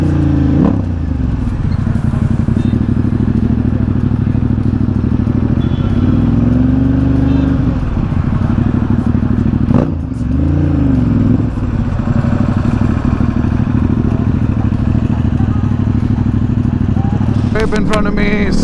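Motorcycle engine droning loudly and steadily on a Sunday group ride out of the Manesar toll, with rising and falling pitch as the rider accelerates to overtake, under heavy wind rush and a talking rider.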